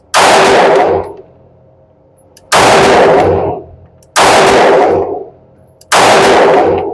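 Four loud, sharp pistol shots from a Sig Sauer P320 X-Five 9mm at a shooting range, spaced roughly one to two seconds apart, each with a short ringing decay and no talk.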